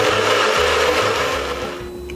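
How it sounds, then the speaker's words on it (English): Blender whirring through butter chicken sauce, a loud, steady motor hum close by with a slight drop in pitch and level near the end, no voices. "I'm now going to pop this into our blender."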